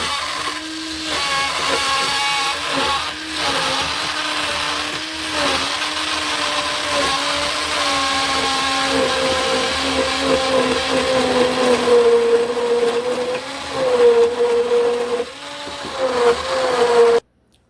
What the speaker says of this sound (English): We're going to put our stick blender into our fat and oils.